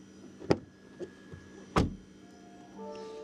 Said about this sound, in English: listen to the sound when the door closes